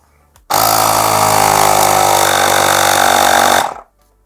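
An Aspiring Storm 3 ST.90W air compressor starts abruptly and runs loud and close with a harsh, buzzing motor drone for about three seconds, then cuts off and winds down into silence.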